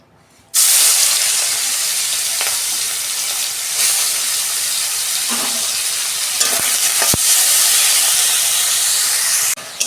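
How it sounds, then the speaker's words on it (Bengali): Shrimp dropped into a hot wok of oil burst into a loud, close, continuous sizzle and hiss that holds steady for several seconds with a few clinks of a utensil. "কড়া গরম হয়ে গেছে, মাছটা আমি ভেজে নিচ্ছি।"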